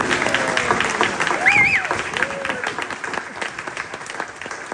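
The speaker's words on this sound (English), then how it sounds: "We should give a round of applause for that" An evening church gathering audience applauds a family's memorial window, steady crowd clapping with a person speaking over it, including a brief rising-falling vocal sound.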